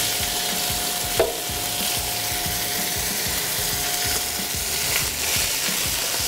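Ground beef for Texas chili sizzles and crackles steadily in a hot pan, a dense, even frying hiss with a brief clack of stirring early on and no voices.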